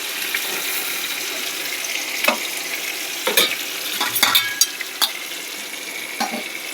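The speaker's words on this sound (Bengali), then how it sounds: "পটল ভাজা হয়ে গেছে, কিছুটা একটা করে নামিয়ে নেব।" Slices of pointed gourd (potol) fry in a hot pan with a steady, close hiss of oil, broken by a few sharp clinks and scrapes as they are stirred and turned.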